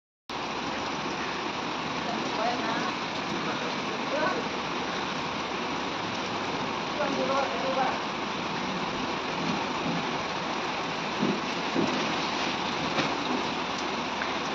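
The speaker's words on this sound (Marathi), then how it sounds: "सो बाहेर मस्त पाऊस पडते" Heavy rain pours outside at night, a steady dense hiss like water rushing on surfaces, constant and full throughout with no clear voices over it.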